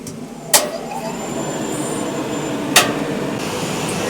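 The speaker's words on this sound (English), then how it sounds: "Oh, the crane is now turning" A crane's engine hums steadily while the machine is driven and turns, with two sharp metallic clacks standing out above the constant mechanical drone.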